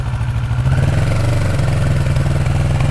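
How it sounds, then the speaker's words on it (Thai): A 2017 Kawasaki Versys 650 motorcycle engine idles steadily and evenly, a low, smooth rumble close by with a faint mechanical clatter on top. "เครื่องยนต์สมบูรณ์มากๆนะครับผม เสียงเดินเบาเนียนๆนะครับผม"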